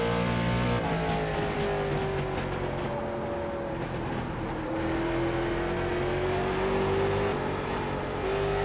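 Late model race car at Stafford Speedway in iRacing, the engine droning loud and steady with rising and falling revs through the laps, several other cars audible around it.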